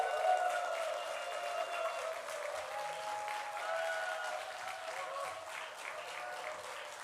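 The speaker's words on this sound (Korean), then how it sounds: "또 이렇게 박수를 받으니까 너무나 좋습니다" A church congregation at a Sunday service applauds a visiting pastor with a steady, moderately distant wash of clapping over faint sustained tones.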